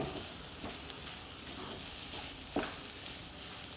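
A vegetable cutlet mixture with potato and pepper being stirred and mixed, giving close scraping and squelching strokes in an uneven rhythm over a faint sizzling hiss.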